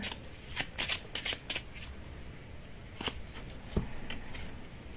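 Tarot cards are riffled and shuffled close by in quick bursts of crisp flutters, then a few scattered single flicks, quiet against a soft room hiss.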